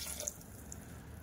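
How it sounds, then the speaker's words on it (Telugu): A glass of water poured into a spiced dal mixture in a cooking pot, a faint, short, steady trickle with no voices. "ఇప్పుడు ఒక గ్లాస్ వాటర్ అయితే వేసుకోవాలండి."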